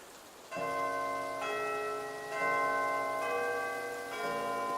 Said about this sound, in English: I'll wait for the clock chimes to go up.